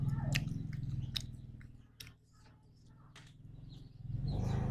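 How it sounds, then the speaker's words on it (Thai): Close, soft wet chewing and smacking of boiled chicken eaten with sticky rice in a Lao home meal, a few crisp bites and mouth sounds over a low background hum, with faint birds chirping. "กินกับข้าวเหนียวทุกคนแซ่บ"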